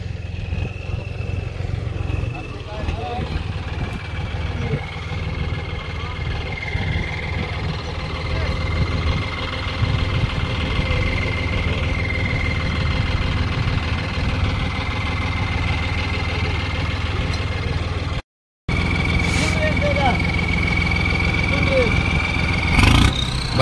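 A tractor engine runs steadily with a low throbbing drone while its stuck tyres are worked free, loud and continuous with brief revving, as people talk over it throughout.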